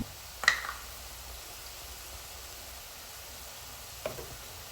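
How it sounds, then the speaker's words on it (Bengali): Mutton with spices in a pan, a soft steady sizzle under two brief scraping stirs near the start and end, quiet and close with no speech. "এখন আমি নেড়ে চেড়ে এগুলো একটু মিশিয়ে নিচ্ছি, না হলে নিচ থেকে পুড়ে উঠবে।"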